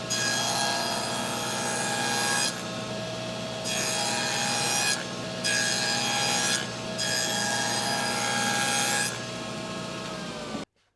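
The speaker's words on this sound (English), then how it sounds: "now I'm going to cut the groove for the bottom to fit into the sides" A table saw cutting a groove into wooden box sides to hold the bottom of a small ring box, a loud continuous whine that drops in pitch in several loaded passes, then stops.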